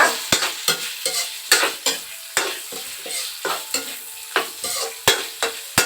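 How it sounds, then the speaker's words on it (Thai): Pork sausage (moo yor) sizzles in a small pan while a utensil scrapes and stirs in a steady, repeated rhythm, close up. "เราก็จะผัดหมูยอไปจากนั้นนะคะ"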